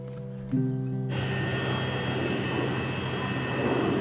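Jet engines of the FedEx Flight 705 airplane start up abruptly, then hold a loud, steady, close roar with a constant hum underneath.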